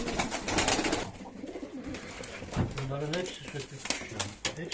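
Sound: tumbler pigeons

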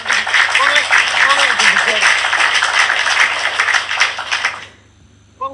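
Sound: audience clapping during a live show

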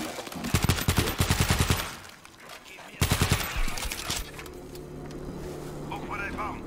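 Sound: gunfire in the video game World War Z

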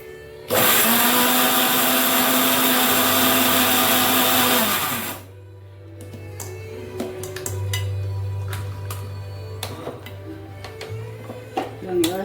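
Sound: blender grinding curry leaves into powder

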